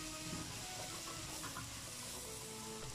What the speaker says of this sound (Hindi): अब इसे हम भूनेंगे, हमने इसे कम से कम 5 मिनट तक अच्छे से भूनना है।